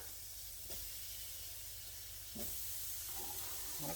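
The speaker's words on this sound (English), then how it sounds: "I'm going to add my onions and my pepper" Onions and peppers fry in a hot pan for hamburger steak in gravy, giving a steady close sizzle and hiss with a couple of brief clatters, and no talking.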